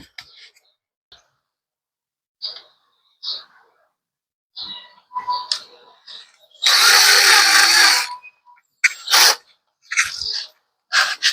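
Drill fitted with fine steel wool scrubbing an old-school big bike engine, one loud burst of grinding lasting over a second among short clicks and scrapes, with brief talk nearby.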